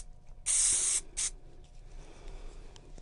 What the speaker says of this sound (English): I'm going to use the spray again